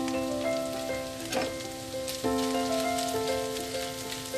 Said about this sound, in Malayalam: ഇനി നമുക്കൊരു മീഡിയം ഫ്ലെയിമിലിട്ടിട്ട് നമുക്ക് ബീഫൊന്ന് നമുക്ക് വേവിച്ചെടുക്കാം